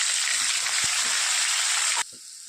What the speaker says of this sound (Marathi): मिरचीला फोडणी बसलेली आहे बघा